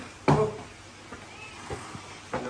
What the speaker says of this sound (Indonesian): Kucingnya Ali guys, kucing Ali